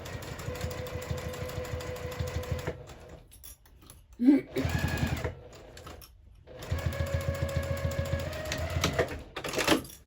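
A sewing machine stitches a zipper using a zipper foot, running in steady rapid bursts close by, pausing briefly in the middle before resuming, with a voice speaking during the break.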